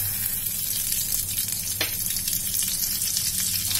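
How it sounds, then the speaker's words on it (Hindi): Whole dried red chillies and mustard seeds fry in hot oil for a tempering, a steady close sizzle with fine crackling spatter throughout and one brief sharper pop midway. "ऑयल डालने के बाद हम इसमें इस तरीके से ये खड़ी लाल मिर्च डाल देंगे और ये कुछ राई है यानी कि सरसों है"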